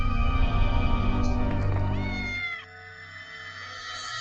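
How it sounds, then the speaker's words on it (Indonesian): A cat meows in a long, loud, drawn-out wail that trails off into quieter background after a couple of seconds. "Ternyata cuma kucing."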